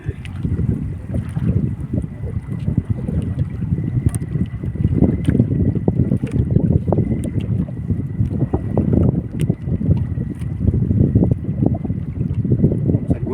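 Small wooden fishing boat paddled across open water, with steady rhythmic splashes and water sloshing against the hull, close and continuous under strong wind noise on the microphone.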